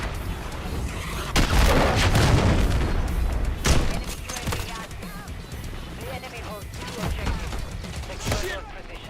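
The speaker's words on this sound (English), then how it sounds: "Hostile cruise missile incoming." A cruise missile strike in a multiplayer shooter video game, a heavy boom followed by rolling blasts and crackling debris, loud and close, with mechanical game effects trailing off.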